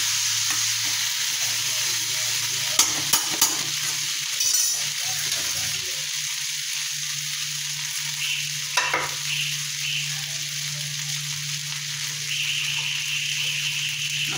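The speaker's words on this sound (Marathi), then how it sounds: "हा बघा गवार चांगला भाजलेला आहे गवार।" Cluster beans (gavar) frying in a pan and stirred for a traditional bhaji: an even, close sizzle continues throughout, punctuated by sharp spoon scrapes and metallic clinks.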